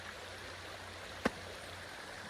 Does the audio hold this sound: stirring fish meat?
no